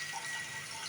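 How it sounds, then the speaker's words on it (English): A bathroom tap runs cold water in a short, steady rushing stream close by, with no speech over it. "There's no hot water at all coming out of any of these taps"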